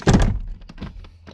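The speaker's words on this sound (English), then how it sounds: "Alright, now we can put back down the seat." Porsche Cayenne seat being lowered back into place, with a loud close thunk at the start followed by a few softer knocks and clicks as it settles.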